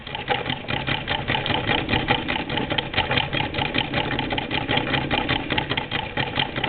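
A Singer Model 20 toy chain stitch sewing machine runs continuously nearby, giving a fast, steady mechanical whir and rattle of stitching with no voices.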